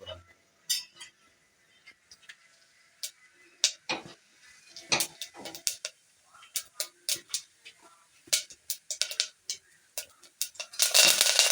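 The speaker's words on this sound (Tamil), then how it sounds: "எண்ணெய் காய்ந்த உடனே கடுகு உளுந்த பருப்பு சோம்பு சேர்த்து க கருவேப்பிலையும் போடுறோம்" Mustard seeds, urad dal, fennel and curry leaves crackle in hot oil, giving sharp irregular pops and clicks that start sparse and grow dense and rapid toward the end.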